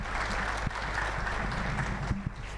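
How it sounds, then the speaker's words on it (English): A conference audience claps for the banking, microfinance and fintech panelists as a panel discussion wraps up, steady dense applause filling the room throughout. "So please, a round of applause for my panelists."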